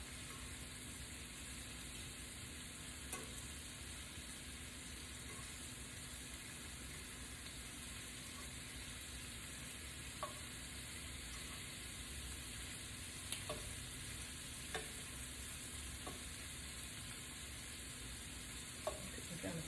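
Shrimp frying in butter in a pan on a stovetop give a steady, close crackling sizzle with occasional sharp pops, running throughout with no talking.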